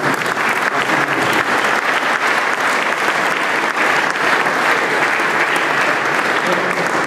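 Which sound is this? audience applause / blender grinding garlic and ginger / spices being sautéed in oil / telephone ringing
audience applause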